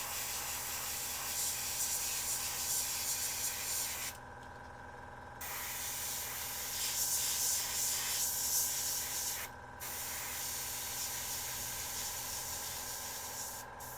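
Compressed air hisses steadily from a Meeden 0.35mm airbrush blowing over a paint layer to dry it, a continuous broadband spray with two brief pauses, close and fairly loud, no talk.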